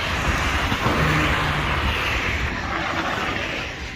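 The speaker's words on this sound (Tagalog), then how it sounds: "Doon yung kotse." A car passes on a street at night beside a mall, a broad steady roar of engine and tire noise that fades slightly toward the end.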